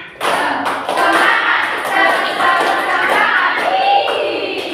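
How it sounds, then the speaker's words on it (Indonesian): A group in a classroom psychodrama counselling session clap together in a rhythmic spirit clap, steady loud hand claps filling the clip with voices mixed in. "Satu kali tepuk semangat."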